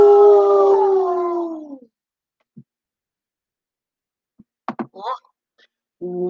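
A dog gives a long, loud howl that falls in pitch, then after a pause a few short, sharp yips and barks follow close by.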